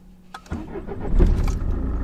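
A car with a 2.0 HDI diesel engine cranks briefly and catches, then settles into a low, rough idle, heard close by after a soft click at the start.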